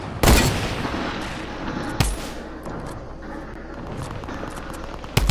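Gunfire in the video game Fortnite, with loud sharp shots at the start, near the two-second mark and at the end over a steady noisy bed.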